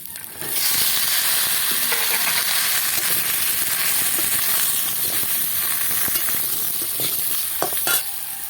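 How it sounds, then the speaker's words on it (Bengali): Chopped pointed gourd hits a pan of fried potatoes and sets off a sudden, loud, continuous sizzle. Stirring scrapes and clacks sound close by near the end, and nobody speaks. "এবার দিয়ে দেবো কেটে রাখা পটলগুলো"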